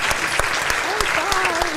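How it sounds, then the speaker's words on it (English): An audience claps steadily at a food and art talk at GOMA, the dense applause running throughout while a voice talks faintly over it. "So please join me in giving them a round of applause to welcome them."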